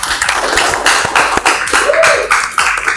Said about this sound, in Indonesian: Kita berikan tepuk tangan untuk semua yang sudah presentasi hari ini.